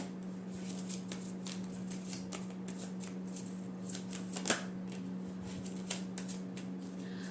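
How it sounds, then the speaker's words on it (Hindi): A deck of cards being shuffled steadily, soft riffling and patter over a constant low hum, fairly quiet and close, with no talk. "पहले हम शफल कर लेते हैं अच्छे से।"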